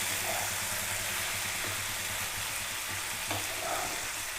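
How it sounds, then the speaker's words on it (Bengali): Vegetables with spices and salt stirred in a frying pan for tomato rice, giving a steady loud sizzle throughout with occasional soft scraping of the spoon against the pan. "কন্টিনিউ একটু নাড়বেন, দিলে মশলাটা সবজির সাথে একদম মিক্স হয়ে যাবে"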